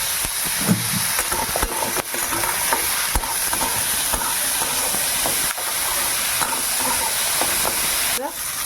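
Potato, bitter gourd and ginger frying with turmeric and salt, giving a continuous close sizzle and hiss with scattered clicks and scrapes of stirring.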